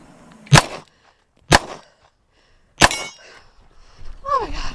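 A HawkTech Arms 1911 airsoft pistol fires three sharp, close cracks spaced about a second apart during a match stage, and a voice speaks afterward.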